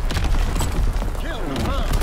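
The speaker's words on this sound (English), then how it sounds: "Incoming enemy artillery. Get to cover." Artillery explosions in Call of Duty WW2 multiplayer, heavy low booms and rumbling blasts under battlefield noise and a brief tonal whistle, loud and close.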